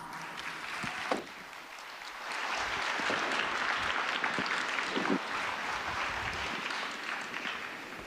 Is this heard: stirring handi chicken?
no